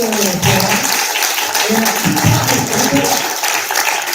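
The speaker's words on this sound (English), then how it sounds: "Give yourselves a round of applause." An audience at a history lecture claps together in a burst of applause, with a few voices mixed into the noise.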